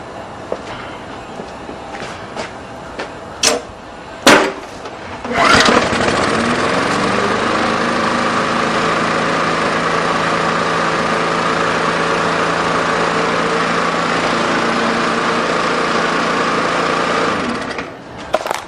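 A few sharp pull-cord tugs, then a small Briggs and Stratton lawn mower engine catches and runs at a steady, loud drone before cutting off.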